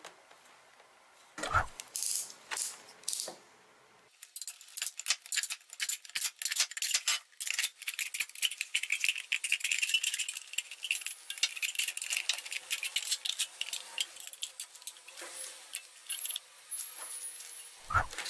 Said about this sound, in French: Commencez par découper une fenêtre dans la canette à l'aide de la paire de ciseaux.